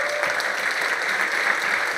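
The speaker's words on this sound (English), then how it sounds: "Please, let's give her a round of applause, please." A seated audience at a business talk event gives a round of applause, a steady, dense wash of clapping that fills the room evenly from start to finish, with no voices over it.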